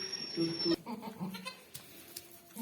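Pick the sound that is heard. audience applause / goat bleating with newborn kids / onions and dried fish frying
goat bleating with newborn kids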